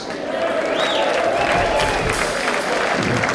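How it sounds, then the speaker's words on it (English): A crowd at a music festival applauds steadily, clapping blending into a dense wash, with a voice calling out faintly over the clapping. "give them a round of applause"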